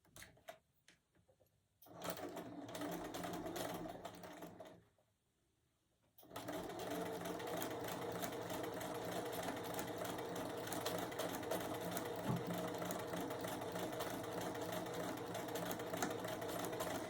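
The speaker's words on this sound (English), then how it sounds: "sew our 1/4 inch seam, okay? So we're just sewing on the short side." A sewing machine runs steadily, stitching a quarter-inch seam along the short side of quilt fabric pieces. It whirs in a short burst, pauses briefly, then hums on continuously.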